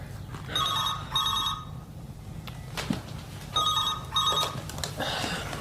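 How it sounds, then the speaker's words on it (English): A telephone bell rings indoors in two pairs of bright, trilling bursts separated by a pause, clear and fairly close against a quiet room. "Answer the phone."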